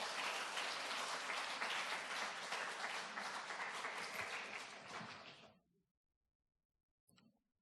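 A church congregation at a Sunday afternoon service applauds the pastor with sustained, full clapping for about five seconds. It fades to silence, followed by a faint brief knock.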